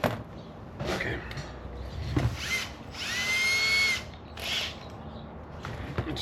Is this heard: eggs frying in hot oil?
no